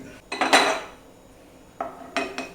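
A metal spoon scrapes and clinks against a pan in a few short bursts, scooping out light-brown fried cashews, with quiet pauses between the scoops.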